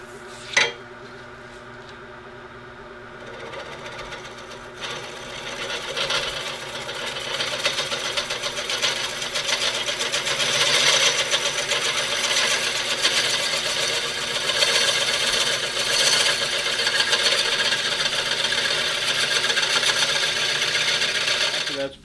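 Wood lathe turning the inside of a wooden piece cut from a tree, a steady broadband whirring and scraping that starts after a sharp knock and grows louder, continuous and close throughout with no talking.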